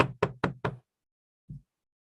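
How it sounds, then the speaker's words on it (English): Four quick, sharp knocks on a door in a steady rhythm, close and clear, followed after a pause by a single softer knock, with silence around them. "I'm going to imagine he knocked on the door."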